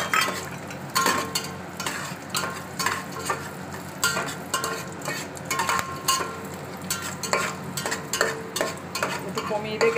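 Cashews and raisins frying in ghee and white oil in a home kitchen pan, a soft continuous sizzle broken by frequent clinks and scrapes of a stirring spoon against the metal.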